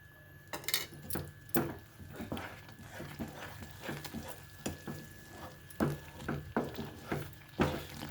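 A spoon stirs Karachi halwa with ghee in a pan, scraping and knocking against the metal in irregular strikes over a faint sizzle, with quiet talk in the background.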